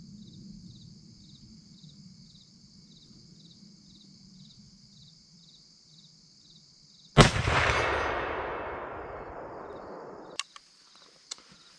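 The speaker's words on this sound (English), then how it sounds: "Shot number 3 at the 120-yard silhouette." A single loud, near blast from a CVA .50 caliber muzzleloader rifle fired at a 120-yard silhouette target outdoors, with a long decaying boom and a couple of faint clicks afterward, over a steady background of chirping insects.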